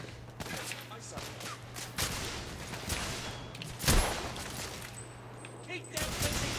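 Gunfire in the video game The Order: 1886 crackles in repeated shots and volleys over a low steady hum, moderately loud, with voices shouting in between.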